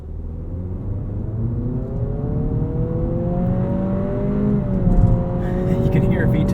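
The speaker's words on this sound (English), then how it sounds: "You can hear VTEC kick in." A 2023 Acura Integra A-Spec with a CVT accelerates hard from a standstill, its engine note climbing steadily and growing louder as it pulls, heard from inside the car.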